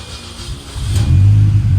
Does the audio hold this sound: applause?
no